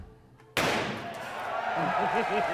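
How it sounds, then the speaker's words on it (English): A single heavy sledgehammer blow strikes a truck door panel, a sudden loud impact followed by a lingering broadband wash, with voices talking underneath afterward. "sledgehammer to the door"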